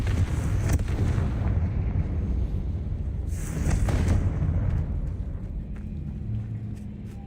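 A spell in the video game Hogwarts Legacy sets off a heavy, rumbling blast that rolls on continuously, with a sharper burst partway through, loud and dense throughout.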